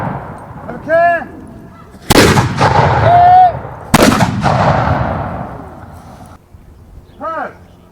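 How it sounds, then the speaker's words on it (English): Two loud, booming cannon blasts a couple of seconds apart at a Battle of Bosworth reenactment, each rolling off into a long echo, with brief shouted voices before and after. "We're about to watch some cannon fire."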